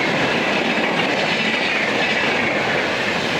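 The Kota Patna Express passes on a crossing with another train, a steady close rumble of coaches with faint clickety-clack of wheels throughout.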